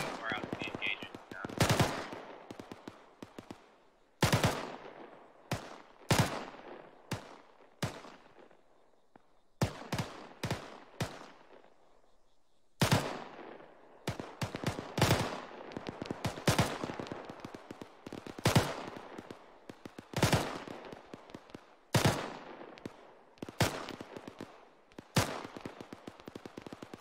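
Rifle gunfire from a squad training video game, bursts and single shots cracking out irregularly across the span, some loud and near, others fainter, with quiet gaps between volleys and faint voices underneath.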